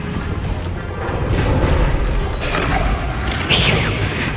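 Bombarda blasting spell explosion in the Hogwarts Legacy video game, a loud booming blast with crashing debris and rumble, followed by a sharp bright burst near the end, set against a dense continuous game soundscape.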